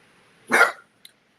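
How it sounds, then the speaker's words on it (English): A dog lets out a single sharp bark, close and loud, followed by a faint brief yip, then silence. "That was my dog Eros."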